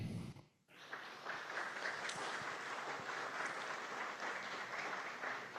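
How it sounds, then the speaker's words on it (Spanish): Audience applause rings out at the inauguration of a forum on memory, truth and justice, a dense steady clapping that starts after a brief pause and continues evenly, moderately distant and fairly quiet. "Les brindamos un fuerte aplauso."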